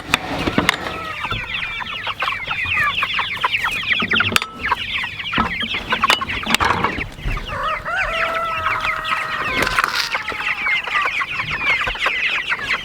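Flock of Cornish cross and Big Red Broiler meat chickens clucking and chattering continuously, close and busy with many overlapping calls.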